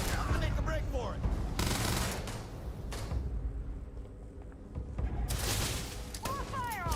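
Gunfire in Starfield survival mode combat, loud bursts of rapid shots with booming impacts, coming in clusters with brief quieter gaps between volleys, mixed with chaotic game effects.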